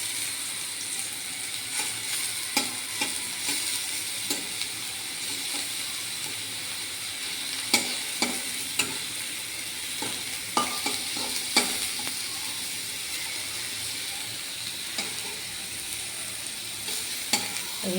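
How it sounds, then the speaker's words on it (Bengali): Snake gourd pieces frying with poppy seeds in a pan, a steady soft sizzle with intermittent scraping and stirring clicks as the pieces are turned, continuous and moderately close with no talking. "এই পিঠগুলো লাল লাল হয়ে ভাজা হয়ে যাচ্ছে।"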